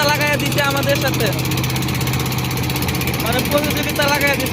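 A motorboat engine drones steadily as the boat races alongside on the Turag River at Tongi. The engine stays continuous and fairly loud, running under a voice talking close by.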